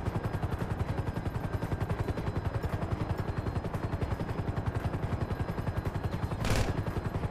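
Flare gun fired in the GTA V game, a single bright burst near the end over a constant, loud rapid mechanical chopping drone like a helicopter rotor.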